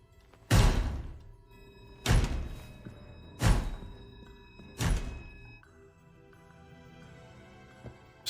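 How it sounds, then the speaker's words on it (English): Four heavy blows land on a door in an animated RWBY scene, evenly spaced about 1.5 seconds apart, each a loud, close thud with a short ringing tail, then quiet room tone. "Just uppercuts the door."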